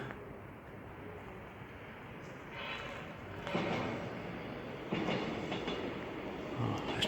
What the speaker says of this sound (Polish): Pociąg przejeżdża akurat blisko.